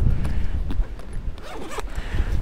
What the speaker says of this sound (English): you can unzip that fully